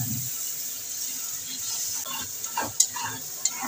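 Spice masala of turmeric and ground coriander with a splash of water fries in a pan, a steady bright sizzle with soft scraping stirs and a few small clicks near the end.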